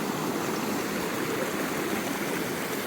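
A rocky stream with large boulders, water rushing and foaming over the stones, a dense, steady, loud roar heard close by with no voices.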